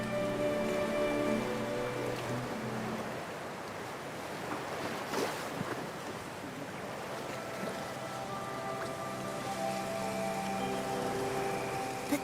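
Steady, dense wash of rain with a surf-like roar falls in a video game, continuous and fairly loud across the whole stretch with faint tonal game music underneath and no talking.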